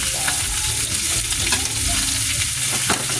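Loud, steady sizzling of pork frying in hot oil until tender, with occasional stirring and scraping sounds close by and no voices.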